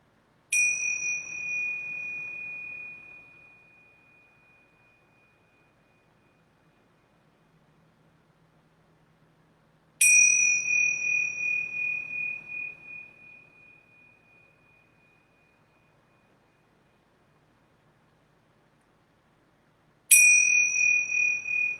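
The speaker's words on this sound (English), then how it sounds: "I'm going to grab my yoga bells and ring them 3 times." Yoga bells rung three times in a quiet room, each strike a bright ringing ding about ten seconds apart that fades slowly into near silence.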